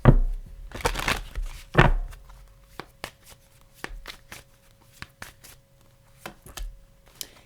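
A tarot card slides and snaps as it is drawn from the deck, with brisk shuffling and rustling near the start followed by sparse, crisp clicks and taps close to the microphone.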